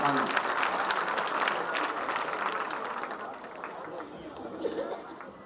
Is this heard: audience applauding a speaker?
yes